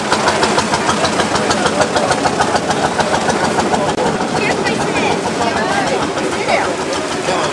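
Several motorbike engines run and idle at a bike gathering at Marong, a steady dense mechanical rumble throughout with people chatting nearby underneath.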